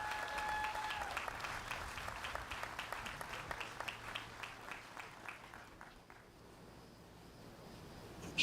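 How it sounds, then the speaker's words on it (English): An audience at a county courthouse rededication ceremony gives a round of applause, distinct claps rising and falling in a steady patter that tapers toward the end. "So let's have a round of applause for Jane Herster and Jan Appleby."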